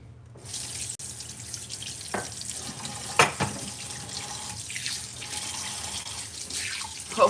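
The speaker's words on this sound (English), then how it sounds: "I've been trying to get to these dishes for the last 2 days." Tap water runs steadily into a kitchen sink during dishwashing, a continuous close hiss with occasional clinks and splashes of dishes being handled, no talking.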